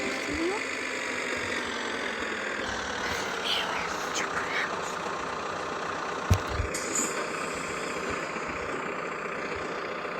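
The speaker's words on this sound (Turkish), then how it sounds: "Otobüs böyle bir otobüs" A bus engine runs steadily throughout, a continuous droning rumble with a faint whine, fairly close, while voices chatter over it and a couple of brief knocks sound near the middle.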